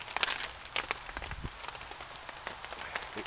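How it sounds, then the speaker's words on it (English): Heavy rain pours down on a woodland campsite at a bushcraft gathering near Worsbrough Mill, a dense steady patter with sharper drops hitting close by, no voices over it. "the rain is coming down pretty heavy at times"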